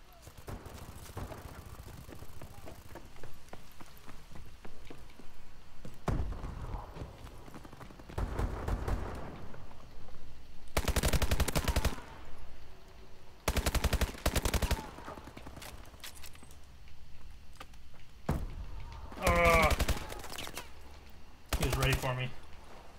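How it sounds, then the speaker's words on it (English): Submachine gun fire from Call of Duty Advanced Warfare comes in several loud, short bursts that start and stop through the gameplay, with quieter stretches and some talk in between. "Yeah, this SMG's not bad."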